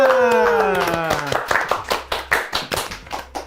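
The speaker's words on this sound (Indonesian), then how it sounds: "Tepuk tangan semuanya." A studio audience claps hands at the start of a talk show episode, about a dozen sharp rhythmic claps that emerge after a voice and fade, close and fairly loud.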